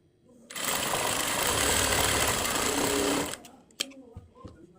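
A sewing machine runs a single steady burst of about three seconds, stitching along a folded fabric strip for a blouse hook band, then stops, followed by faint handling clicks.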